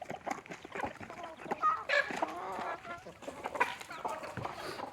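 Hens cluck and chatter in a backyard coop during release, several birds calling in short irregular bursts at moderate distance, with someone talking intermittently over them.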